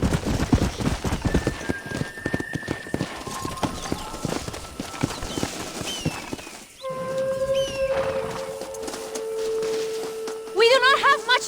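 Horses pulling a stagecoach in Red Dead Redemption, with steady clip-clop hoofbeats and wheel rumble through the first half, then a quieter stretch with sustained tones and brief bird-like chirps near the end.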